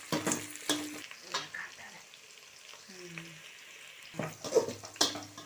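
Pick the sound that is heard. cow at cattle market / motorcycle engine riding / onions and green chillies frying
onions and green chillies frying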